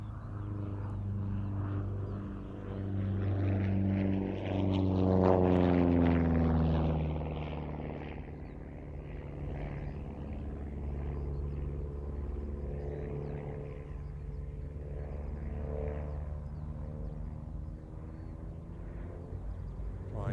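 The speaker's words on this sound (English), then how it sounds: "a delightful aircraft to do aerobatics or to go touring in with excellent visibility from the big cockpit bubble" A single-engine propeller aerobatic plane drones through a display at an airshow, its engine note swelling loud as it passes overhead around the middle, then settling into a steady, somewhat distant hum in gusty wind.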